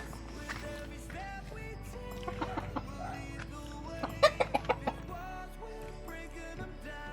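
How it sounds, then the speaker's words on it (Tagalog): Chickens cluck and murmur nearby in a rapid series of short calls, with a low steady hum underneath. "Ito yung mga alagang manok tol."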